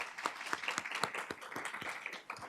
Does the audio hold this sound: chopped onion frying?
no